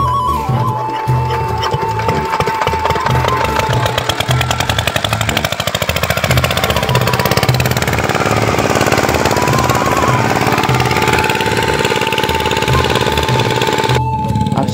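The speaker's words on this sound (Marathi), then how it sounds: "अशा प्रकारे आपलं इंजिन चालू झालं आणि फास्टपैकी पाणी येऊन राहिले आपल्या वाफ्यांमधून" An irrigation water pump engine on a chilli farm starts and then runs steadily, a loud continuous rapid mechanical chugging that fills the whole stretch with no talk.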